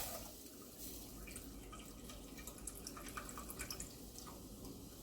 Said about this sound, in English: I'm gonna go ahead and put my milk in here.